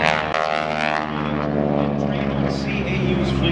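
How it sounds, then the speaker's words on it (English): A purple P-51 propeller fighter roars past at a 2022 Miramar airshow, its loud, steady engine drone rich in harmonics throughout, with a voice talking over it. "She's flying the purple B-51 that she bought from Clay Lacy"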